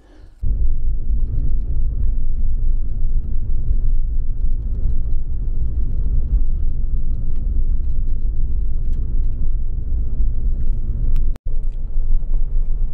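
A truck drives along gravel roads in the Porcupine Hills of southern Alberta, giving a steady, loud low rumble of engine and tyres that runs almost unbroken, with one brief dropout near the end.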